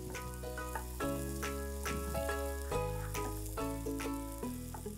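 Ingredients for a Nanjil-style fish curry sautéing in a hot pan, with a steady, close sizzle and frying crackle throughout and occasional stirring sounds, under a continuous background hum, no talk.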